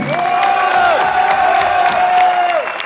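A comedy show audience cheers and applauds loudly and steadily throughout, with shouts and a sustained high whoop riding over the crowd noise.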